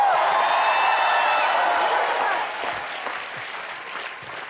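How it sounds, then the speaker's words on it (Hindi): A studio audience at a comedy show bursts into loud, dense applause. The clapping stays strong for about two seconds, then thins and eases down to a softer patter. "तालियां।"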